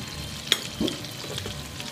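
Shrimp and onion fry in a pan with a soft steady sizzle, broken by a sharp click and a brief scrape of stirring.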